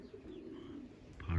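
A wild parakeet coos softly like a pigeon, a faint, low, steady call heard alone in a quiet outdoor setting.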